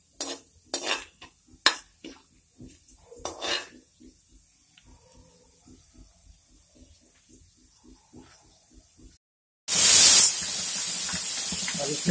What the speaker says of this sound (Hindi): अब इसमें दालचीनी, लौंग, इलायची डालते हैं और इसे अच्छी तरीके से भून लेते हैं